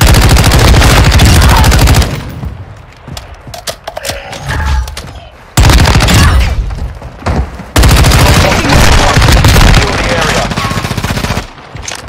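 Sustained automatic fire in a video game battle royale firefight, loud and close, with long dense bursts broken by brief lulls where scattered shots and thuds continue.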